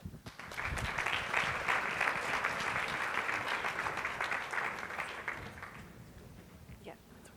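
An audience applauds to welcome Dr. Alison Fox-Resnick at an education talk, a steady, full round of clapping that swells, holds for several seconds, then tapers off.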